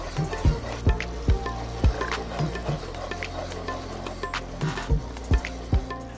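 Millet flour roasts in a pan over low heat, giving a soft, steady sizzle broken by regular knocks and scrapes of stirring, close and without voices.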